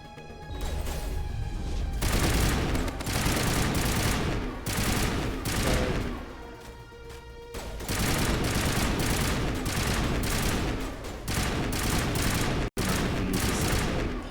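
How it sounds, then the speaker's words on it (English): Pulse rifle fire in the Mass Effect video game, long sustained loud bursts of rapid shots with a brief pause midway and a sharp cutoff near the end. "Pulse rifle, not an actual auto rifle."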